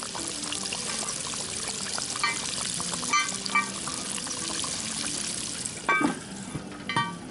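Chicken frying in oil in a lidded pot, a steady dense frying hiss with occasional louder crackles and bursts, close and continuous, with no talking.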